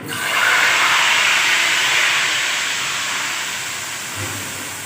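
A loud, steady sizzle of hot ghee poured as a tempering hisses continuously and fades slightly toward the end, with no talking over it.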